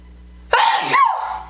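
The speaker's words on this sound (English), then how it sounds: "oh god, I gotta sneeze." A single loud, close sneeze from an adult, a sharp burst that trails off over about a second, with a brief extra sound at the very end.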